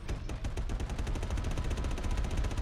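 A ship gun in Star Citizen fires in a rapid, steady stream of shots that runs without a break, loud and close, with no voices.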